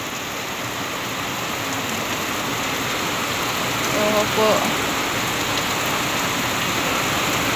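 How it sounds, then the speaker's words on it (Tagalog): Heavy typhoon rain pours down in front of a house, a dense, constant roar of water hitting surfaces that stays loud and even from start to finish, with a brief murmured voice partway through. "Sobrang lakas naman po ng ulan"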